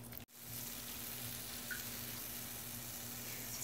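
Onion pakoda batter frying in hot oil gives a steady, soft, continuous sizzle that runs the whole time after a brief break at the start, with no voices.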